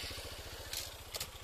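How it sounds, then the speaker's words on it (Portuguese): Motorcycle engine chugging in a steady low pulsing rhythm on a rain-damaged dirt road, fairly close and continuous, with a couple of brief brighter bursts near the end. "Ela vai passar na moto aqui"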